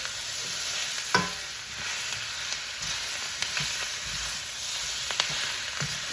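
Vegetables stir-frying in a hot pan give a steady close sizzle with scattered sharp pops and crackles throughout, no voices.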